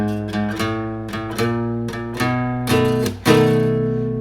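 Guitar playing a 12-bar blues turnaround on open E: a series of plucked, ringing notes and chords in a steady rhythm, each attack decaying before the next, building to a fuller strummed chord at the end, clear and close with no talking.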